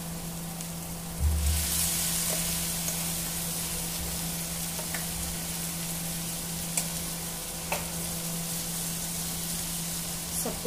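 Tomato paste fries and gets stirred in a pan, a steady soft sizzle with occasional spoon scrapes and clicks over a constant low hum.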